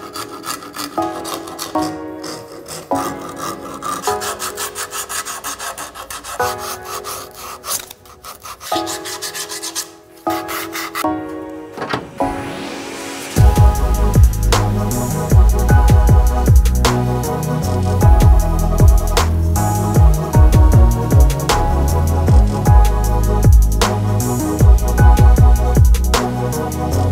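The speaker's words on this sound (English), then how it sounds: "the outside of this is sanded to 240 grit and is feeling lovely" Sandpaper at 240 grit rubbing steadily against the outside of a spinning natural-edged wooden bowl on a lathe, a continuous close rasping hiss that grows louder and fuller partway through and carries on without pause.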